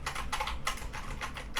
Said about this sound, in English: this is loud and clacky too.